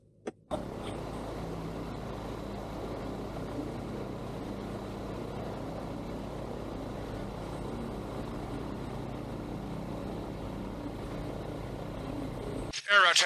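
A Rotax 912 ULS four-stroke engine on a microlight aircraft starts abruptly and runs at a steady, continuous idle drone, close and even throughout.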